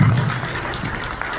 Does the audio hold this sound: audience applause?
yes